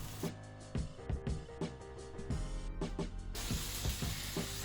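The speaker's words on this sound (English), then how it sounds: "we'll let it steam as it's also frying at the same time." Dumplings frying in a pan with water added to steam them, giving a quiet, continuous sizzle and hiss with scattered clicks and taps of utensils or lid on top.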